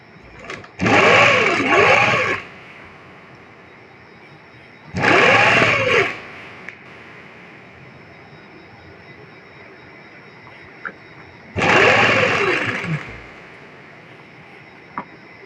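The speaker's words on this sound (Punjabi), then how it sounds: "ਇਸ ਕਰਕੇ ਆਪਾਂ ਹੀ ਸਿਲਾਈ ਪਹਿਲਾਂ ਲਾ ਰਹੇ ਆ ਕਿ ਜਿੱਪ ਰਿਸਕੇ ਨਾ" A sewing machine stitches an invisible zip onto the back of a kurti, running in three separate bursts of about one to two seconds each, with quiet pauses in between.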